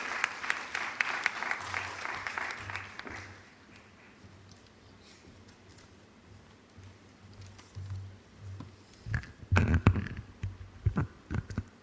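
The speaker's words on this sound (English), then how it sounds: "Please give him a warm round of applause." An audience at a collegiate research paper competition award ceremony applauds warmly for a few seconds, then fades to a quiet room hum before a second, shorter burst of clapping.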